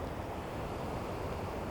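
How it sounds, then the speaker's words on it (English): Ocean surf with the swell coming in along the Santa Monica Mountains coast, a faint continuous wash of breaking water and wind with no distinct individual waves. "looks like the swell is coming in."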